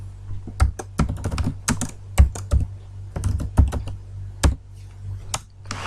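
Computer keyboard typing while a name is entered into an Excel spreadsheet cell: a brisk, irregular run of close, crisp key clicks with short pauses between bursts.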